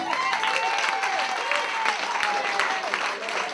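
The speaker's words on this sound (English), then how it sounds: "Great clapping, everybody." An audience claps along in rhythm with a band, sharp regular hand claps on a steady beat over a sustained musical tone and crowd murmur.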